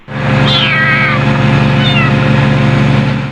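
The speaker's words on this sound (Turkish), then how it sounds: "Esnaf miyavlama seslerini duydu." A few thin, high mewing calls from a kitten stuck high in a tree rise over a loud, steady engine hum that runs throughout.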